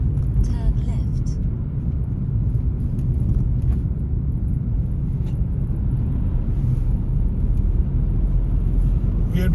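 A car drives along a 30 mph road on a driving test route, producing steady low road and engine rumble heard from inside the cabin with a voice talking over it.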